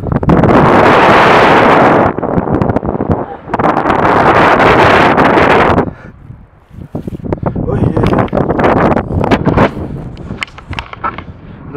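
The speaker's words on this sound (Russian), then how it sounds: "Сейчас будет ветер немного задувать" Strong gusts of wind buffet the microphone in loud roaring bursts at sea in Sudak, dropping away briefly before rougher, choppier gusts return.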